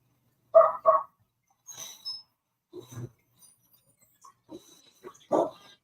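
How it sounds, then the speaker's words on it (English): A dog cries and yelps outside a gate at night, giving a few short, separated whines and barks at moderate distance against an otherwise quiet background. "Now you got a crying dog outside the gate."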